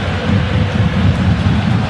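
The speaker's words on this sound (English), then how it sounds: "The ball just slowing up a little bit with the rain." Rain falling on a football pitch during the Tunisia versus Uganda Africa Cup of Nations match, a loud steady broadband hiss and low rumble of downpour and crowd without commentary.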